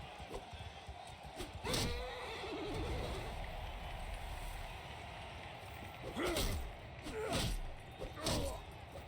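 A horse whinnies repeatedly in the video game Mount and Blade II Bannerlord, with loud rising and falling neighs at the start and several more near the end over a steady game background of thuds and movement.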